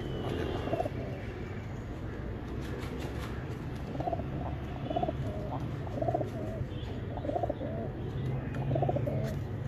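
Soft, repeated cooing of several pigeons over a steady low hum, the calls rising and falling in loose clusters.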